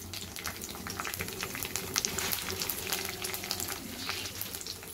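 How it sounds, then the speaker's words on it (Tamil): Curry leaves and six garlic cloves sauté in a pan for a dried fish kolambu, a soft continuous sizzle with light bubbling and faint crackles throughout. "இப்போ இது எல்லாம் கொஞ்சம் நல்லா வதங்கட்டும்."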